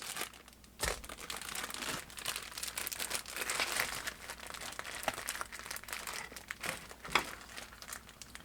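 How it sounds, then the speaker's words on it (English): Packing tape is peeled and torn off a mailed package of bullets in a series of faint, close crinkling rips and crackles, with a few sharper tugs. "I'll go ahead and take the tape off of all of these at once"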